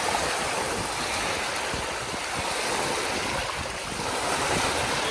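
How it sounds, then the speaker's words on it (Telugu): Waves wash steadily on a large, brimming reservoir, making a broad, continuous surf roar like the sea, loud and unbroken with no talking. "సముద్రం అలలాగా ఉంది, రిజర్వాయర్ లాగా ఉంది."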